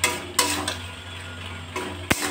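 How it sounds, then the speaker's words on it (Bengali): Fried lentil fritters being stirred into a ridge gourd and pumpkin curry in a pan, a few distinct clinks and scrapes of a spoon against the pot over a quiet low simmer. "এবার একটু নাড়াচাড়া করে দেবো।"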